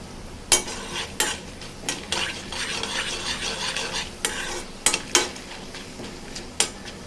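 Tempering of dried red chilli, urad dal, cumin and mustard seeds, half a spoon, frying in hot oil, a loud close crackling sizzle punctuated by sharp metallic spatula clanks against the pan.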